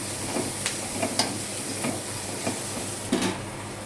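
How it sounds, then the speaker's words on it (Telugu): Egg fried rice sizzling in a pan as garam masala is stirred in, a constant close frying hiss broken by several sharp scraping and clinking strokes of a spoon against the pan. "1 స్పూన్ గరం మసాలా వేసుకొని బాగా కలుపుకోవాలి."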